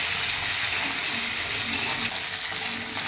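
Halved okra sautéing in a pan for a Kerala-style okra theeyal gives a steady, even sizzling hiss. It holds at one loudness with no pauses.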